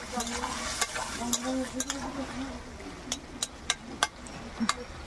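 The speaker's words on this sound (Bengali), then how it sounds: "এবারে একটু ঢাকনা খুলে একটু নেড়ে চেড়ে দিই" A spoon stirs tilapia fish curry in a pot with the lid just lifted, quick scraping knocks against the pot over a low bubbling simmer, close by, with a voice talking along.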